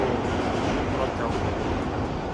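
New York subway train riding, a loud, continuous rumbling roar of the car in motion with faint clatter, heard from inside.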